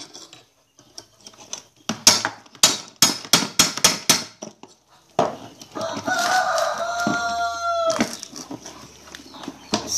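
A rooster crows once, clear and fairly close, after a run of sharp rhythmic metallic hammer blows from disassembling a centrifuge motor; faint clinks continue around it.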